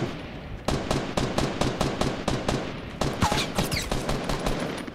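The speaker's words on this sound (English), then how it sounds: "Shotgun battle now." Rapid, evenly spaced shotgun blasts ring out during a Fortnite Battle Royale fight, a loud run of sharp reports close by with no talk over them.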